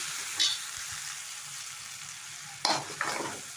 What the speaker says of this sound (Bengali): আমি যে মশলাটা বেটে রেখেছি ওই মশলাটা দিয়ে একটু ভাজা ভাজা হতে দিই